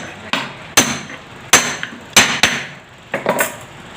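A bearing being hammered into a motor housing during clutch fitting, with about five or six sharp metallic hammer strikes close up at an uneven pace, the last ones in a quick cluster.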